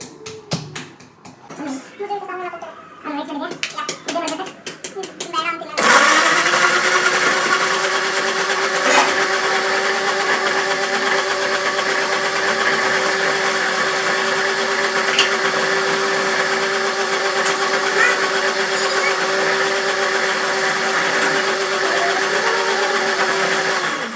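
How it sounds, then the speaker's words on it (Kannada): An electric mixer grinder runs loud and steady in a home kitchen as ingredients are ground, a continuous motor whine starting abruptly after a few seconds of talk and holding for the rest. "ಇದನ್ನ ಗ್ರೈಂಡ್ ಮಾಡ್ಕೊಬೋಣ"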